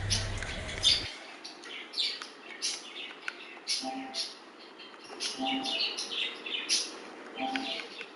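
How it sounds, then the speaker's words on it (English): Birds chirping as ambience in a basketball video game, a scatter of short high tweets and calls repeating irregularly at moderate distance, fairly soft, after a brief low hum at the start. "Birds are chirping."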